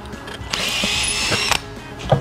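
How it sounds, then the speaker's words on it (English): A cordless drill whines steadily as it bores through wood, with a few knocks and clicks of the bit and workpiece along the way. "I'm going to drill 2 parallel square holes right through the marking spots."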